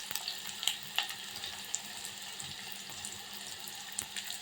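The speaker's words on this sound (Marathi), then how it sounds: "कांदा आणि मिरची छान परतून घेते" Chopped onion and a green chili sautéing in a pan with a soft, steady sizzle and scattered small crackles and pops, close and moderately quiet, with no voices.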